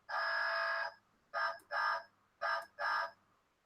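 Toy buzzer fitted in a build-it-yourself Routemaster bus model sounds a long electronic buzz, then two pairs of short buzzes in quick succession, close and fairly loud, with no talking over it.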